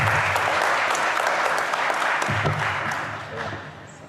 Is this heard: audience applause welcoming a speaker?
yes